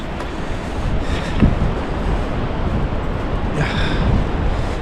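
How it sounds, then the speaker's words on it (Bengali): Strong, cold wind roars on the Annapurna Base Camp trek in the mountains, a loud, steady rushing gust that buffets the microphone throughout with no talking. "প্রচুর ঠান্ডা বাতাস"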